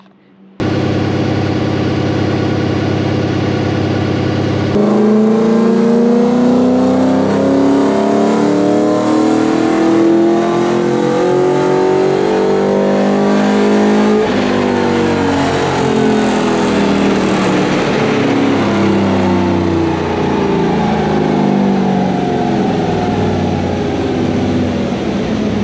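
A Toyota 1UZ V8 in a Zephyr runs on a dyno during tuning with a Haltech 2500 Elite, steady loud engine note climbing through sweeping rev rises for about twenty-five seconds, close and continuous with no talk.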